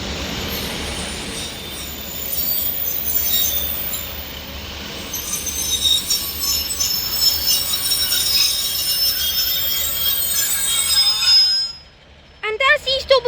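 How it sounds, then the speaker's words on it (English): A double Northern Class 156 diesel train passes at Levenshulme on the West Coast Main Line. Its wheels squeal in sustained high-pitched tones over a rumbling roll for several seconds, and then the sound drops away as a voice speaks. "This is a double Northern 156."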